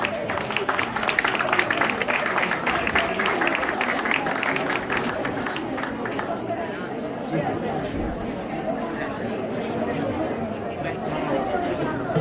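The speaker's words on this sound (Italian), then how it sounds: "Un grande applauso all'Associazione Federapuzzi Selargius." Audience applause for the Federapuzzi Selargius cultural association at a Selargius gala costume dressing event, steady clapping mixed with crowd chatter throughout, fairly loud and continuous.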